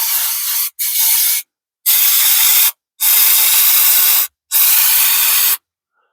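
Four loud, close bursts of chain lube sprayed from an aerosol can onto a vehicle's brakes, each a sustained hiss lasting around one second, separated by short silent gaps.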